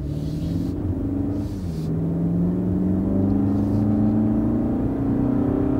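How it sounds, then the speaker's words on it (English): A new Toyota Camry accelerates with a throaty engine note, a low rumble rising steadily in pitch as it pulls from inside the car, with no talk. "Makes a nice throaty sound too. It's not dull like the old Camrys."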